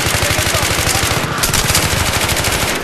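Rapid automatic gunfire from Battlefield 3 on the Seine Crossing map rattles loud and close in sustained bursts, filling the whole stretch with dense repeated shots and a faint voice underneath.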